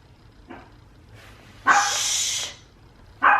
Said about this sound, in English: even in the quiet house, you guys, they're never gonna just stop barking.